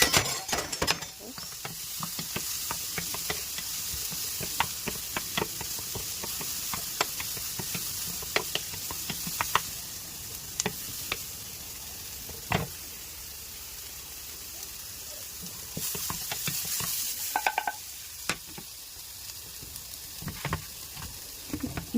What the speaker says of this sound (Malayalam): അതിലേക്ക് നമുക്കിനി ആ തക്കാളി ഇട്ട് കൊടുക്കാം.